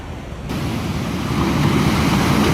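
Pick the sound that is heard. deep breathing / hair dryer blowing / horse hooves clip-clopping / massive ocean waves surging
massive ocean waves surging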